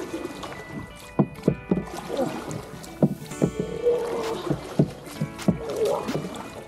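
A small boat is poled along on water at a rainforest-style cafe in Thailand, giving sharp, evenly spaced splashing strokes over steady wind noise, with faint voices in the background.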